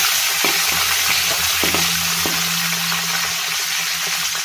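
Whole cumin seeds, two bay leaves, cardamom, cinnamon and cloves sizzle steadily in hot oil in a pan for chicken with cauliflower, a loud continuous frying hiss with occasional stirring clicks, no talk.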